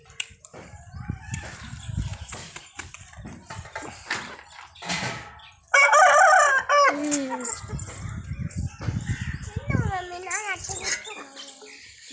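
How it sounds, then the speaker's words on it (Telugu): A 4 kg rooster crows loudly once at close range, followed by a shorter crowing call, with people talking and clucking before and after. "ఈ పుంజు వచ్చేసి కాకిడేగన్న"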